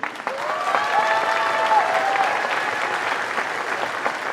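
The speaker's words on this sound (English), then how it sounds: "Next, round of applause for Shyla Gailey." Applause from a school concert audience in a gymnasium for a student band member, steady dense clapping sustained throughout with a few voices mixed in.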